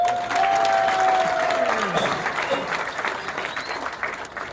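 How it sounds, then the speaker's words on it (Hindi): Loud, sustained applause from a large crowd, steady clapping that gradually thins out, with a few scattered voices in the mix. "जोरदार ताली"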